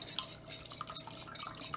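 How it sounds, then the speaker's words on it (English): A whisk beats eggs in a bowl with rapid, continuous metallic clinking and scraping, close and fairly loud, with no voices. "Just mix the egg."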